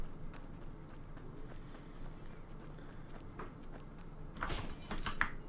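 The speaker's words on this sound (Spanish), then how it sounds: "Rompemos la puerta ya que no se puede abrir." A door is broken down in The Walking Dead video game: after quiet ambience, a short burst of heavy, close thuds and cracks arrives near the end.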